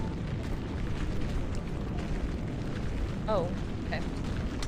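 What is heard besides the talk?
deafening explosion sound effect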